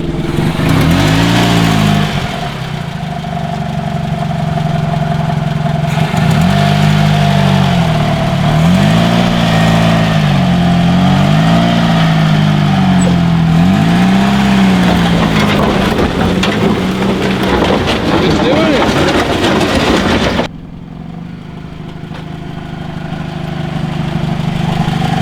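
An old Ram 50 truck engine in 4 low, a loud continuous close drone that rises and falls with repeated revs before dropping off near the end.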